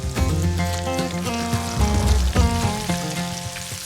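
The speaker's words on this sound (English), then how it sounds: "350 degree oil. Just go in with some onion straws. I'll cook them to their golden brown." Onion straws crackle and sizzle steadily in 350-degree frying oil, a close, dense bubbling hiss with no talking.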